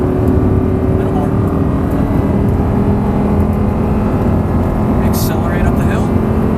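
An Audi R8 engine accelerating uphill on an exotic driving course gives a loud, continuous roar that holds steady throughout, with a voice faintly present beneath it.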